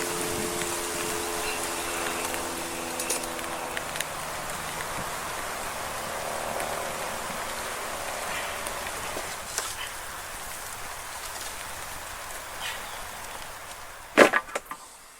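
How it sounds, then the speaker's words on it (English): Steady pattering of rain on a camera outdoors beside a garden gate post, a dense continuous hiss with scattered close drops throughout and a sharper cluster of louder hits near the end. "You may hear the pitter-patter of the rain bouncing off the camera."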